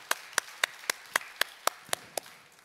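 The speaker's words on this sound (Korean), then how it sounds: "영광의 박수 하나님께, 예수님께 올려드립니다" Roughly nine sharp, regularly timed claps sound in a church as the congregation applauds during an Easter resurrection service, each clap clean and separated by brief quiet.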